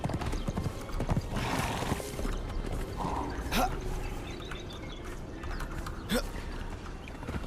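Clip-clop of horse hooves in the Conan Exiles video game, a steady trotting rhythm with an occasional whinny over ambient game sound near water, fairly close and moderate in level.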